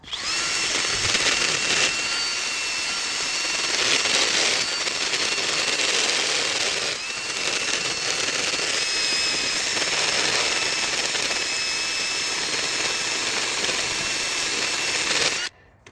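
A power tool grinding the dull cutting edge of a lawn mower blade, a loud continuous whining grind that runs nearly unbroken with slight dips before stopping abruptly at the end.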